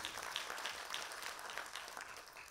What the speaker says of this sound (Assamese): হাত চাপৰি দিবৰ বাবে অনুৰোধ জনাইছোঁ।